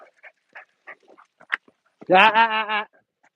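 A big, athletic dog that can jump fences lets out one drawn-out, whining bark or howl near the end, loud and close, after a stretch of faint, scattered small sounds.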